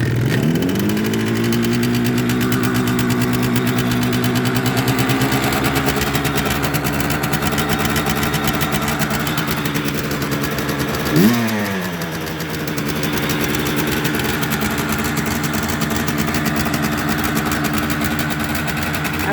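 A cold Suzuki GT125L motorcycle engine runs at a high, fast idle on choke with a steady buzzing drone, then gives one sharp rev blip before settling back to an even run.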